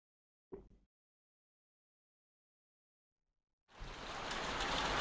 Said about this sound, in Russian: Опять грёбаный дождь.